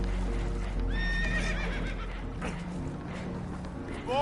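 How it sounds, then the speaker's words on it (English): Spooked horses whinny and neigh loudly in Red Dead Redemption 2, aboard a damaged boat, with hooves clopping and a constant low rumble of water and engine beneath. "Horses are spooked"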